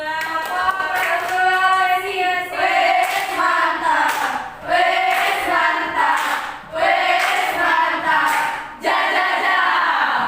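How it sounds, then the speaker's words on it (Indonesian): A classroom group cheers for group 2, loud rhythmic bursts of clapping mixed with voices chanting together, repeating in waves about every two seconds. "Kasih aplaus untuk kelompok 2."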